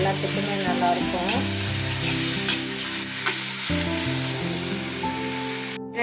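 Onions sauté in hot oil in a pan for a Tamil prawn gravy, a loud continuous sizzle up close with stirring scrapes and a steady tonal hum underneath.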